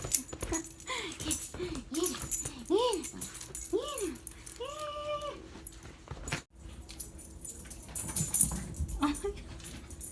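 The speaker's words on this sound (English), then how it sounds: "Who are you barking at?" A dog gives a run of sharp, rising yips and barks, fairly close, while a person talks over them in a room.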